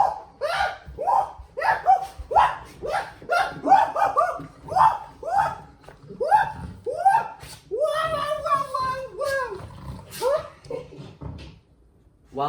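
Dogs in a home den bark over and over, a dozen or so sharp, close barks in a rapid, uneven rhythm, with a few yelping runs in the middle and no talk.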